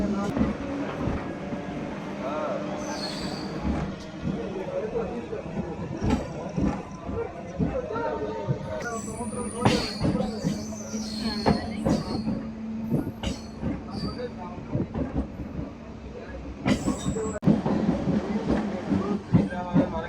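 A MEMU passenger train runs on the Markapuram Road to Tenali line, heard from on board: continuous rumbling wheels, rhythmic track clatter and repeated high wheel squeals, with people talking nearby.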